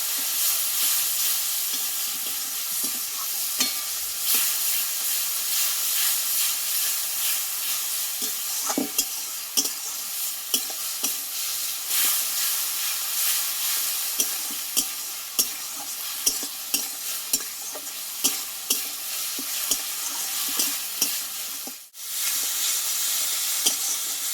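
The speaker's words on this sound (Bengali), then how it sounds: "একসঙ্গে মশলাটা ভালোভাবে কষিয়ে নেবো" Masala of tomato, turmeric and salt frying in a pan, with a steady loud sizzle and frequent scraping strokes of a spoon stirring it, close up with no voices.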